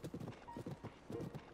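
A horse's hooves clip-clop in a steady trotting rhythm in Zelda: Tears of the Kingdom, with clear close hoofbeats in small clusters and no one talking over them.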